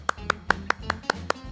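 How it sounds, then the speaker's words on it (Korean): Eight sharp, evenly spaced hand claps in a slow steady rhythm, close and clear, over a faint background murmur. "일단 박수 한번 쳐볼까요?"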